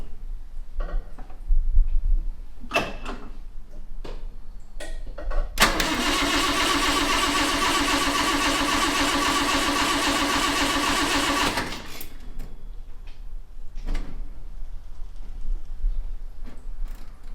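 A long-sitting, dusty 1961 Triumph TR3A cranks for several seconds, its starter churning loudly and steadily, with clicks and short engine stumbles before and after in a quiet garage.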